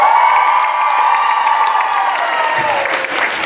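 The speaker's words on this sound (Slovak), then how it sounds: "takže ešte raz veľký potlesk" Loud, sustained applause and some cheering from an audience at a K-pop showcase after a dance performance, steady clapping close and full throughout, with a faint voice over the top.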